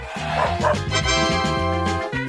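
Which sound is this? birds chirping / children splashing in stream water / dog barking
dog barking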